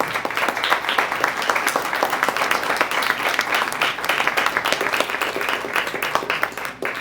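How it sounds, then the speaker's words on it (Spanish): A church congregation claps together for several seconds, producing a dense, steady wash of many hands applauding at even loudness with no talking over it. "¿Podemos darle un aplauso al Señor por su misericordia?"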